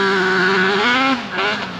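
A Banshee 421 ATV engine runs hard on sandy trails, a loud, close, raspy two-stroke drone that climbs in pitch and then briefly drops off.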